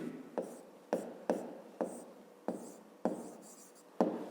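A pen writes out a maths calculation by hand on paper in a series of about eight quiet scratchy strokes, each starting with a soft tap and trailing off, close and alone with no voices.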